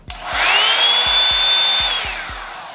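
A Revlon brush hair dryer switches on and runs, a steady loud motor whine and airflow rush with rising pitch, alongside a series of low rhythmic thumps, close and without talk.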